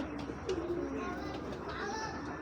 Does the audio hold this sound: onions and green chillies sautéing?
no